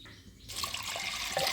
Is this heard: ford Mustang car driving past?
no